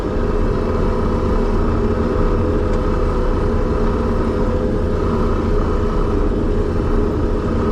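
A vehicle engine drives in high gear, a loud, steady low rumble that holds even throughout with no pauses.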